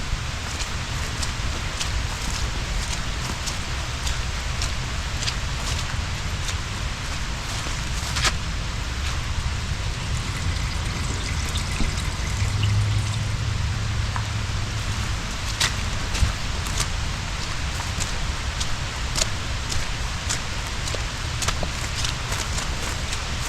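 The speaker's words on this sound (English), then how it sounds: "So that's a bunch of water coming out of there." Rainwater pours steadily out of a drainage pipe fed by downspouts at a new construction site, a continuous rushing wash with scattered drips and splashes, fairly close and constant, with no talking.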